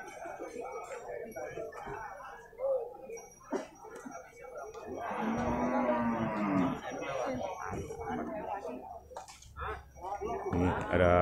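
Cattle moo at a busy livestock market in Purwakarta, one long, loud low call rising out of the crowd noise midway, with people talking nearby throughout.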